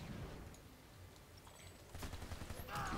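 Gunfire from a Planetside 2 battle, rapid and faint, rattling in continuous bursts amid distant combat noise, growing denser and louder toward the end, with no talking.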